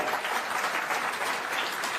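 Applause from a crowd at a political rally addressed by Aam Aadmi Party MP Bhagwant Mann, a steady, dense wash of clapping that holds evenly for two seconds with no voices over it.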